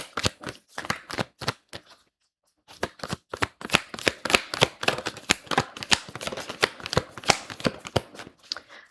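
A deck of tarot cards is riffled and shuffled by hand in quick, crisp bursts of snapping card edges, close and clear, with a brief pause before the shuffling resumes.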